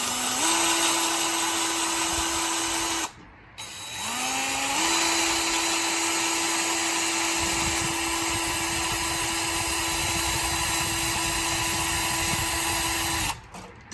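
A handheld power drill with an attachment fitted to its end whines steadily at close range, then stops briefly and spins back up to a constant high hum that runs to the end before cutting off.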